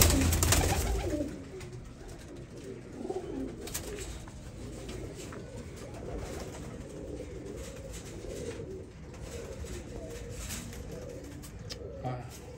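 Teddy pigeons coo in low, throaty bursts close by, repeating under a continuous murmur of background noise with some indistinct talk.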